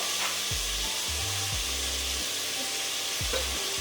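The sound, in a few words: mushrooms frying in ghee and oil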